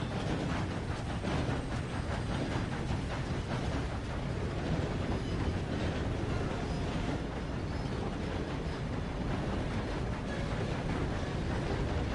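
A steam locomotive in Red Dead Redemption 2 rolls along in a continuous loud rumble of wheels on track, dense and unbroken throughout with faint clatter.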